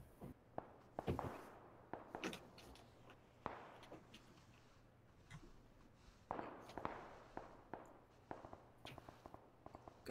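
Scattered sharp gunshot pops in PlayerUnknown's Battlegrounds, some nearer and some distant, firing irregularly over a quiet background.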